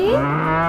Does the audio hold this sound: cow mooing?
yes